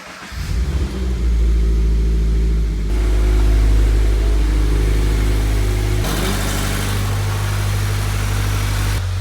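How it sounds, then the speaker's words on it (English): A GT86/BRZ engine cranks and catches after an oil pickup installation, then settles into a steady, loud idle with a deep low rumble, briefly revving higher partway through. "Now, when we have everything primed, we'll start the engine."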